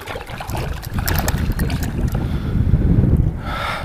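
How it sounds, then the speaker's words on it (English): Steady wind buffets the microphone while out kayaking for redfish through shallow ponds, a continuous rough rumble with faint water trickles and splashes close by, no talking. "Oh, it's windy."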